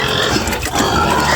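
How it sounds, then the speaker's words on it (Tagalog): Hungry pigs on a farm grunt in a dense, loud, close chorus that continues without a break for just over a second. "Ngayon naman baboy, atasa daw. Gutom na daw."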